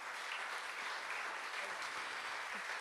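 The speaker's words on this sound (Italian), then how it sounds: "Adesso un applauso lo possiamo fare." Steady, dense applause from an audience at a secular funeral gathering at a music club in Sanremo, continuous and even throughout with no pauses.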